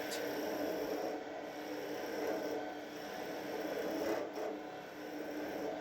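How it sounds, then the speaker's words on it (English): A skew chisel cuts wood on a lathe while turning a birdhouse ornament body, giving a steady close rasping, rubbing scrape that swells and eases in long strokes with brief catches, no voices. "Using the long point of the skew here to create the V cut"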